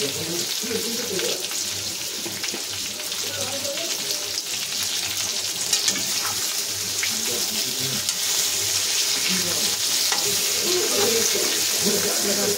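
Stuffed eggplant sizzles and fries steadily in hot oil over a full flame, a loud continuous crackle with occasional stirring, while a voice talks over it.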